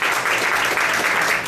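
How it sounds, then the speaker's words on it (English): An audience claps for a guest at a sports demo event, a brief burst of steady, dense applause that is fairly loud and close throughout. "A big applause for him"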